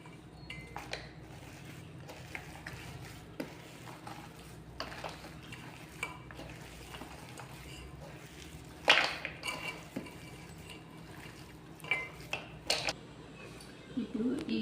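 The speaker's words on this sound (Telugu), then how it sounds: "ఇప్పుడు ముక్కలు కూడా దీంట్లో వేసేసి మనం కలిపేసుకోవాలండి బాగా" Mango pieces being stirred into an oily pickle mixture in a metal vessel: steady soft scraping and mixing, with occasional louder clinks of the spoon against the pot, close by and moderately quiet.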